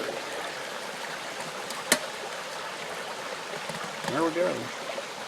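A creek flows close by outdoors, a steady broad rush of water running throughout, with a brief click and a short spoken phrase near the end.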